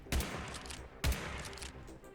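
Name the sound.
auto shotgun firing in the video game Reclamation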